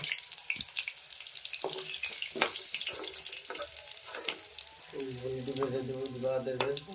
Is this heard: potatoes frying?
yes